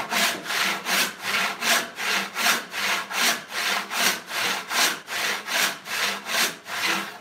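Hand saw resawing an 8-inch wide walnut board, steady rhythmic back-and-forth rasping strokes, close and clear, about two strokes per second with no speech.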